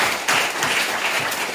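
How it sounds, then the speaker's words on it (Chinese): A congregation claps at an Amis wedding ceremony, a short burst of dense, close applause from many hands. "拍掌。"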